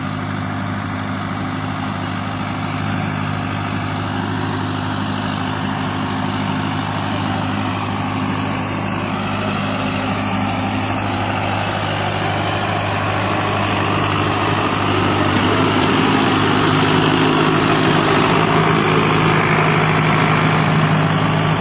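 A heavy engine runs steadily and close by, a low continuous rumble that grows slightly louder toward the end.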